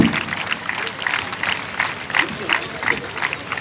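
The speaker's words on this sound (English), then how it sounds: "Clap, clap." An audience claps at a state-level sports festival opening ceremony, steady scattered applause from a crowd with a voice over a loudspeaker talking on top.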